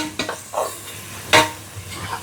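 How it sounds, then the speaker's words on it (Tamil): Ginger and garlic sauté in a hot pan, a soft sizzle broken by a few sharp scrapes and clinks of a spoon against metal, up close. "இப்போ வந்து இஞ்சி பூண்டு நல்லா கொஞ்சம் ப்ரௌன் கலர் ஆகிற வரைக்கும் நல்லா வதக்கிட்டு"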